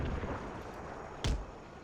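A single distant mortar shot from an artillery battery in the strategy game Empire Total War, a short muffled boom rising out of a steady rumbling battlefield background.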